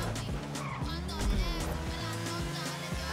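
Motorcycle skidding during a street race in the video game GTA V Online, a steady engine drone with tyre screech and rising, falling pitch sweeps, fairly loud and continuous with no talking.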